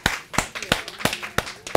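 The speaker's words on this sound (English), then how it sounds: "Let's give her a round of applause." A small audience claps in a short burst of sharp, evenly spaced hand claps at a chiropractic office talk, fairly close and clear.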